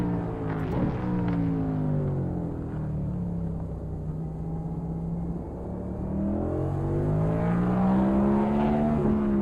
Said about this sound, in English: Like I can hear the cars zooming by on pit road too.